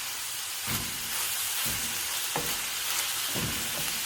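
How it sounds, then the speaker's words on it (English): Meat sizzles and crackles as it fries in its own fat, with a few soft scraping stirs breaking the steady hiss at intervals. "ya se empieza a freír en su propio su propia grasita"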